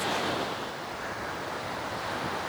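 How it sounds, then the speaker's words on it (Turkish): Sea waves breaking on Davutlar beach on the Aegean coast, a continuous loud wash of surf with some wind rumble against the microphone, no voices. "Dalgalar bakın şimdi görünüyor."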